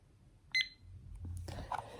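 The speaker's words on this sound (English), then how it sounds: "so starting the timer again" A kitchen-style timer gives a single short, bright beep as it is started, followed by faint handling and rustling noises in a quiet bedroom.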